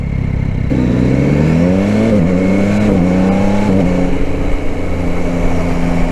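A 2021 Yamaha Tracer 9 GT three-cylinder motorcycle engine revs up close by, its pitch climbing through the gears with a steady, throaty drone.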